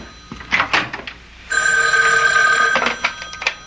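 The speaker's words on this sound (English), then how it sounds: "Excuse me, that's my phone." A telephone bell rings in a 1970s radio mystery drama, first as short bursts and then as one sustained metallic ring, with voices speaking around it.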